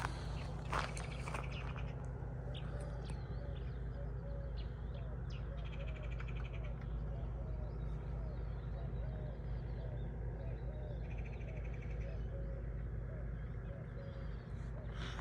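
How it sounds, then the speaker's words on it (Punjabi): Birds call repeatedly outdoors in an old village grove at Gobindpura, Punjab, with scattered chirps over a steady low background rumble and occasional footsteps. "ਪੰਛੀਆਂ ਦੀਆਂ ਆਵਾਜ਼ਾਂ"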